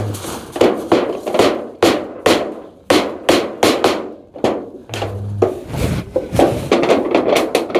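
Nails driven into wood with a hammer: a series of sharp, loud, close strikes in uneven bursts, some quick runs of blows and short pauses between them.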